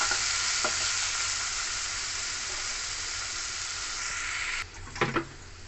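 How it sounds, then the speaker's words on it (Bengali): Potatoes fry steadily in hot oil with a pinch of nigella seeds in a pan, a loud continuous sizzle with some stirring clatter near the end. "এবার এটা ভালো করে ভাজা ভাজা করে নেব।"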